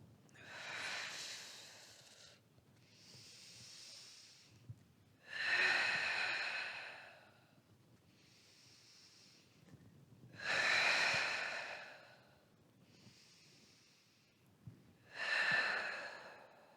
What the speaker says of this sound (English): allow your inhales to expand belly area